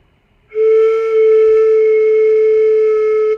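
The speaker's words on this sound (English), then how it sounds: "With your hand covering the end, it should sound like this." A single lower, hollow tone from a flute headjoint with its open end covered by a hand, held steady and fairly loud for nearly three seconds after a clean attack, with no talking.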